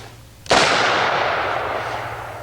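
A single loud .41 Magnum handgun shot cracks out close by, its sharp blast rolling into a long, slowly fading echo.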